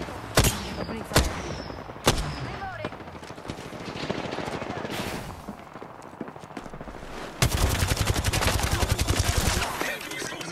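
Rapid automatic gunfire in the battle royale game Apex Legends, with sharp shots early on, then a dense sustained burst of machine-gun fire near the end, loud and close, with game voice lines faintly mixed in.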